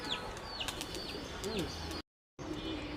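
Soft cooing from Giribaz flying pigeons with scattered chirps from other birds, steady and fairly quiet, broken by a brief moment of silence near the end.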